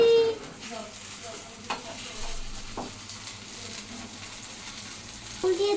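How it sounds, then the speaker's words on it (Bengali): Eggplant slices fry in a pan with a soft continuous sizzle and a few spatula knocks, close by, with a faint voice briefly at the start and end. "বাবা বেগুন ভাজি করতেছি"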